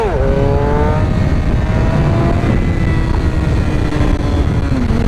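Loud close-up roar of a Suzuki GSX-R750 motorcycle engine riding in second gear around 5,000 rpm, pitch rising and falling steadily as it revs, under heavy wind rush.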